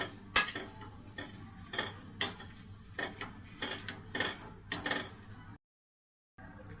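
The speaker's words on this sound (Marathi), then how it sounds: "सगळं असं मिक्स करून ह्याला मी मॅशरनीच आता मिक्स करून घेते" A masher works spiced potato filling for chilli vada in a pan, producing a series of soft squelching thumps and scraping clinks at an uneven pace. A brief silent gap comes near the end.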